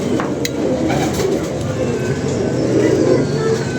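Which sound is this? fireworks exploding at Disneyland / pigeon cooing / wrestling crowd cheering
pigeon cooing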